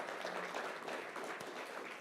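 Audience applause for a participant at a live Mastermind 2022 event, a steady wash of clapping from a room full of people, fairly faint and distant, lasting about two seconds with no one speaking over it.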